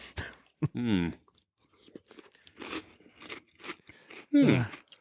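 Crunchy bites and chewing of a coconut snack, close to the microphone, in several separate crisp bursts with quiet gaps between.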